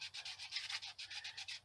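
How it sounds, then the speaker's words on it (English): Sandpaper of 800 grit rubbing oil into a wooden scroll-saw bowl, a close, quiet, steady back-and-forth scrubbing in about a dozen short, even strokes. "And now I'm just going to rub it in for a few minutes."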